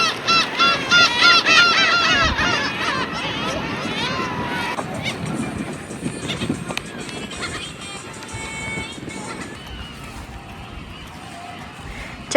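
Seagulls call noisily near the sea at Kabushima Shrine in Hachinohe, a dense chorus of squawks strongest at first, then fading into crowd hubbub and wind.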